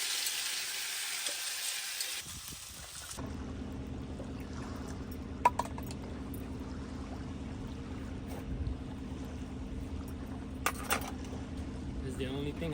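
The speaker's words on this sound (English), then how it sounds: "We're gonna have a longanisa, some eggs. Also, I'm cooking some garlic fried rice." Longanisa, eggs and garlic fried rice sizzle steadily in a pan at a remote camping spot, a continuous close frying hiss with a few small clinks.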